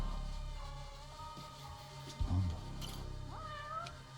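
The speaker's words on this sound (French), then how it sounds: "On entend vraiment très très bien ce chat." A cat meows in the video game Judgment against a humming, tonal game soundscape, with a short meow in the middle and a fainter drawn-out one near the end, fairly quiet and without talk.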